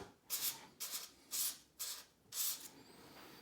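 Fine-grit sandpaper rubs a carbon quiver tip for a fishing rod during repair, five close, crisp back-and-forth strokes in an even rhythm, then a pause.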